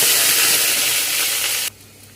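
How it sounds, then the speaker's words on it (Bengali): Okra fries in hot oil with a loud, dense, close sizzling hiss that holds steady, then cuts off abruptly, leaving only a faint low hum. "তো চলো, এখানে দেখো তেল আমার গরম হয়ে গেছে। আমি আগে প্রথমে ঢ্যাঁড়সগুলোই ভেজে নেব।"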